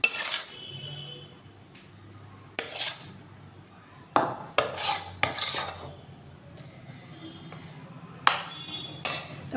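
A spoon stirs milk kheer poured over vermicelli in a metal pot, giving intermittent close scraping clinks and taps between quieter pauses.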